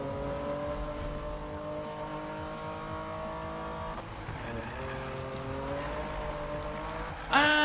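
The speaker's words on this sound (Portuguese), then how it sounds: "esse drift do jogo é sensacional" A car drifting in the Need for Speed 2015 racing game, its engine holding a steady high whine with a dip in pitch midway, then a sharp burst of tire squeal right at the end, loud and alone.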